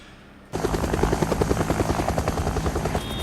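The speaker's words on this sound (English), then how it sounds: "did you see a helicopter?" A helicopter's rotor thumps in a fast, steady rhythm, loud and close, starting abruptly after a brief quiet moment and continuing without pause.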